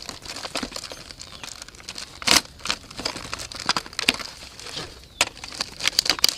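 A knife slicing open plastic toy packaging for a 2015 Nerf XD Elite Alpha-Trooper blaster, with crinkling, scraping cuts and sharp snaps of plastic in close, uneven bursts.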